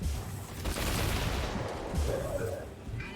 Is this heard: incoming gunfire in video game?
yes